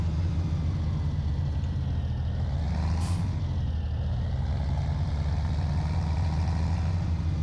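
Heavy farm tractor engine in Farming Simulator 2017 runs as a steady, loud low rumble throughout, with a brief hiss like an air brake release partway through, and no talking.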